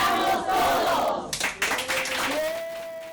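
A studio crowd cheers and claps together, a loud burst of applause and shouting that swells briefly in the middle and then fades, with voices mixed in throughout.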